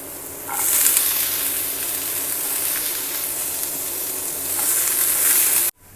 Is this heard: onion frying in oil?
yes